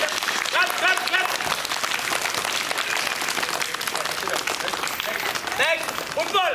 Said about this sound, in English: join your hands and big clap